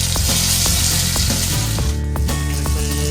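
Onion hits hot oil already seasoned with cloves, cardamom and cinnamon, giving a loud steady sizzle over a clay village stove, with scattered clicks and clatter of utensils throughout.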